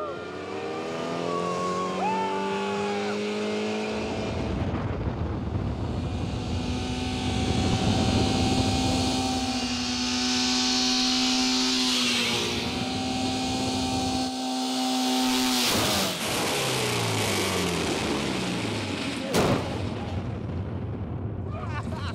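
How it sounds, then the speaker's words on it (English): Engines roaring to life at ignition in a stunt set up as a launch, a loud sustained rumble with rising and falling whine-like tones and a sharp bang near the end. "Start the engines. Ignition."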